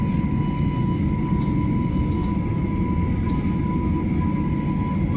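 China Airlines airplane engines drone with a steady, loud, low rumble and a faint constant whine, heard from inside the aircraft without a break.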